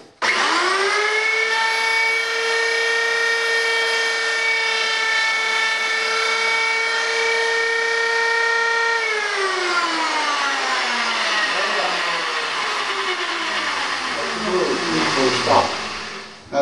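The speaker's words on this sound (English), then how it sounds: "now I'm going to turn the router on and cut this groove, and it'll go very quickly" A router cuts a shallow groove about an eighth of an inch wide in wood for a string inlay, a loud, steady high-pitched motor whine that holds for several seconds, then winds down in falling pitch as the tool is switched off.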